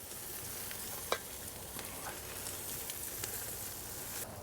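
Garlic shrimp grilling in butter hiss with a steady, close sizzle that runs throughout, with a few small pops and crackles and no talking.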